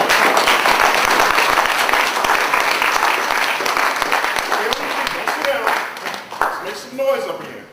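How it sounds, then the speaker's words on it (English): An audience applauds a brother, a loud, dense burst of clapping that fades toward the end, with a voice briefly heard as it dies down. "give a big hand to this brother right here"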